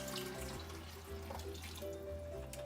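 Vegetable broth pours into a cooking pot for chili, a soft steady liquid stream splashing quietly and continuously for a few seconds, close but faint, with no talking.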